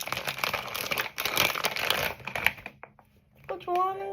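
Packaging wrapper being torn open for a Labubu collectible unboxing, with close crinkling and ripping of plastic for about two seconds. A child-like voice speaks excitedly just afterward.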